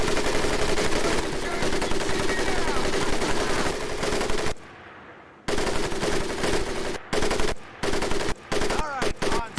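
Sustained machine-gun bursts from the Medal of Honor: Pacific Assault training range, loud and rapid, broken by short pauses and choppy stop-start volleys toward the end.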